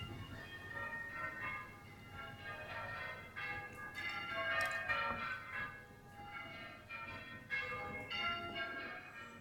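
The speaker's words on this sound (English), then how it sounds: "a nice sound of the church bells" Church bells from a church across the road ring in a steady, overlapping peal, their bright tones layered over a low rumble of background noise, moderately distant.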